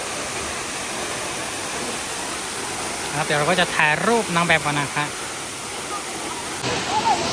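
Tam Nang waterfall in Si Phang Nga National Park drops from a high cliff, its close, steady rushing roar continuing throughout while someone speaks over it midway.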